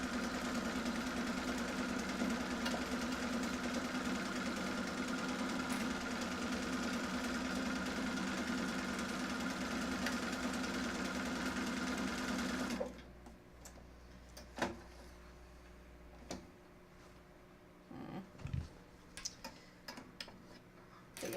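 A sewing machine top-stitching fabric runs in a steady, even whir for about thirteen seconds, then stops, leaving a quiet room with a few faint knocks and rustles.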